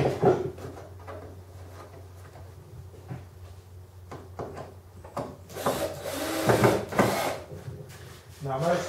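Hull panels of a Strike 15 boat being screwed together with a power driver: short whirring bursts and wooden creaks and knocks, growing louder and busier toward the end.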